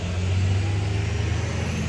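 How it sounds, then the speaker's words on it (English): A school bus passes close by, its low engine rumble and broad road noise steady and fairly loud throughout, with no talking. "School bus."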